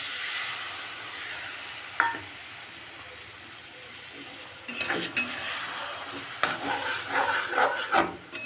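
Masala-tinged water is poured into spices frying in a pan, setting off a hissing, steamy sizzle with spoon scrapes and clinks against the vessel; the sound builds into bursts of bubbling stirring.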